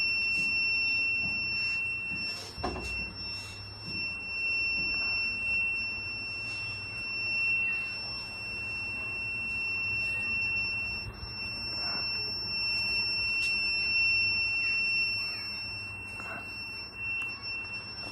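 Alarm buzzer on a primary school science project for protecting crops, powered by a mobile phone battery, shown at a National Science Day event: a steady, piercing electronic tone that sounds almost continuously with a few short breaks, over faint room noise.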